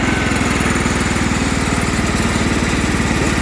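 A John Deere L110 lawn tractor, brought back after sitting unused for ten years, runs with a steady, loud, close engine drone and an even rapid pulse throughout, with no talking.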